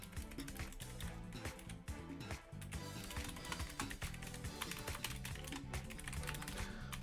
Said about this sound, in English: I've got a clicky-clacky keyboard.